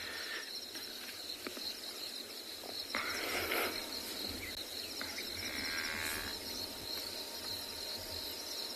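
A cow lowing on a South African safari, a low drawn-out moo a little distant, set against a constant chorus of crickets and insects with no talk.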